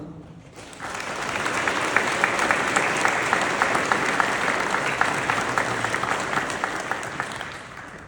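An audience at an Oak Park Vietnam healing wall memorial dedication applauds in welcome. The clapping is dense and sustained, with sharp individual claps standing out from the steady crowd noise, and it keeps going to the end.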